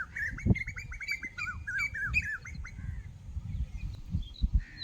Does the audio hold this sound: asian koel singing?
yes